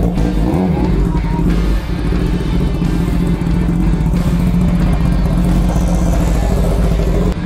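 A Kawasaki ZX-10R sport motorcycle engine running after being push-started, a loud, steady low rumble that holds continuously throughout without pauses.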